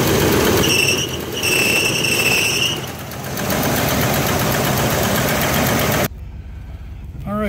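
A 1979 Chevrolet Caprice Classic idles with a steady mid-range engine hum, light belt noise and lifter chatter, and a possible exhaust manifold leak; whistly tones and murmured voices mix in before the sound cuts out abruptly.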